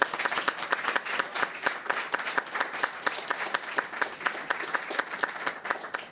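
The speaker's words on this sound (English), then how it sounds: "Let's give them a round of applause." An evening event crowd applauds, a full round of clapping with sharp individual claps standing out, sustained and fairly close for several seconds.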